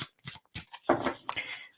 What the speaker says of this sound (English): Just shuffling for you, Wendy.